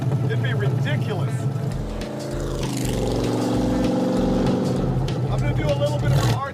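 A Ford Model A hot rod engine runs close by, a loud, rough idle with a low droning rumble that shifts slightly as revs rise and fall, while people talk over it.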